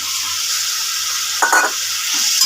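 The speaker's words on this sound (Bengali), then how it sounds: "এবার ডিম আলুটা দিয়ে দেবো" Egg and potato being sautéed and stirred in a pan with masala, a steady close sizzle with a brief louder burst of stirring midway and light scraping near the end.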